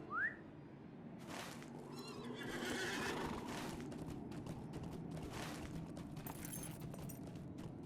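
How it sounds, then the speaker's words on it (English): Horse neighing in the online game The Lord of the Rings Online (LOTRO), a sharp whinny at the start followed by steady hoof clip-clop and ambient game sounds throughout, fairly quiet. "Let me get on my horse."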